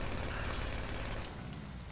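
Dense, continuous gunfire from GTA V, a steady roar of overlapping shots that fills the whole two seconds and eases slightly toward the end.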